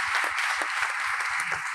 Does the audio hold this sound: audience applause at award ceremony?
yes